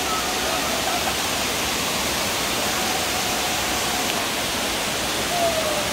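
Dunn's River Falls in Jamaica pours in a constant, dense roar of rushing water that stays loud and even throughout, with faint distant voices blended into the noise.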